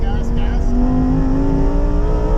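A Lamborghini Huracan EVO Spyder accelerates on a race track, its engine pitch climbing steadily in a loud, close in-cabin roar, with a voice talking over it.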